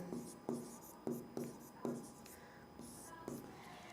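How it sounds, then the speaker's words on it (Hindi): Chalk or marker strokes on a board during a classroom lesson come in soft, rhythmic scratches about half a second apart, quiet and close, with a faint low voice in the background. "मैं यहाँ ब्रैकेट में लिख देती हूँ, अनुवादन"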